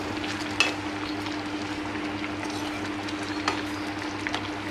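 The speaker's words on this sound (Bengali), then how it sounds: "অল্প করে গরম মশলা দিয়ে দিলাম, এখন নাড়িয়ে নামিয়ে দেবো।" Prawns cooking in milk with garam masala are stirred in a pan, giving a constant close sizzle and bubbling with a few faint scrapes.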